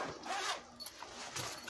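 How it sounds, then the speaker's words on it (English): A double zipper on an Ibanez Mikro bass gig bag is pulled in a few quick, close, quiet zips, with short rasping strokes separated by brief pauses. "double zipper"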